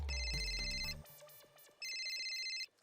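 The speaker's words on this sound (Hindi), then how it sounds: "भिड़े का फोन है, उसको बोल मैं सो गया।" A household telephone rings in two bursts of electronic trills with a short gap between them, loud and close, after a brief low thud at the start.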